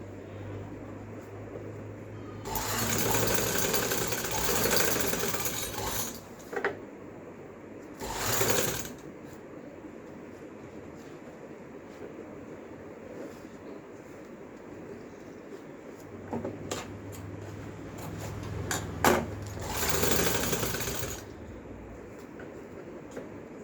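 A domestic sewing machine stitches fine lace onto a garment neckline in three bursts: a long steady whirring run, a short pulse, then another run, with quiet pauses between.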